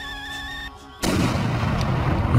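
After a brief quieter moment, a firecracker fired from a cannon erupts in a loud sudden blast, followed by a sustained rumbling, crackling roar that fills the rest of the clip.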